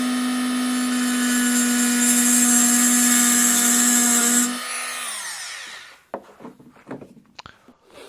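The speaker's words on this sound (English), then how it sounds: "to use a Dremel saw, or whatever tool you've got really." A Dremel rotary saw cutting into a small turned wooden snowman piece, a loud high steady whine for several seconds that winds down, followed by brief quiet scraping and handling noises.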